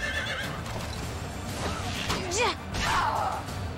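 A horse neighs in the video game Fire Emblem: Three Houses, a rising and falling whinny over battle background noise, with a whooshing swing nearby.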